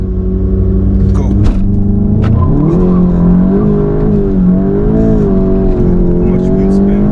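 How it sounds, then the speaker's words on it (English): VW Golf GTI MK7.5 Stage 2 launching hard in sport mode from a standstill, a loud continuous engine roar climbing in pitch as the revs rise, with tyre noise from wheel spin mixed in, close and constant throughout. "Manual launch, so press the brake, full accelerator, go."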